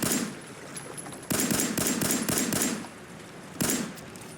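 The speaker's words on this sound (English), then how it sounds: "First, I'll try with my 10mm pistol" Several sharp 10mm pistol shots ring out in Fallout 4, irregularly spaced close reports, each with a short ringing tail, and a final louder shot near the end.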